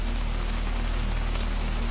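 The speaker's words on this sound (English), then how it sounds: "listening to the rain continue its endless, tapping against the roof tiles" Steady rain tapping on roof tiles, a dense continuous patter with a low constant hum underneath, even and unbroken throughout.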